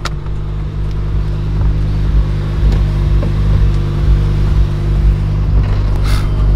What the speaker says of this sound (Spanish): simplemente el sonido del coche